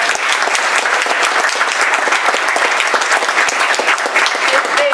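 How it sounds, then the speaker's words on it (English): Steady, loud applause fills the SmartBuild Center grand opening ceremony, with many hands clapping evenly for five seconds and no pause or voices over it. "let's give just a round of applause to making it to this morning"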